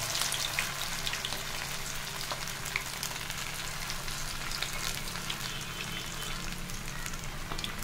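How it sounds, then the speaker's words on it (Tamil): Fish frying on a flat tawa in cold-pressed sesame oil, a steady soft sizzle with scattered crackles and pops, fairly quiet and unbroken, no talking. "நான் இன்னைக்கு செக்கில் ஆற்றின நல்லெண்ணெயில் தான் பொறிச்சு எடுக்க போகிறேன்"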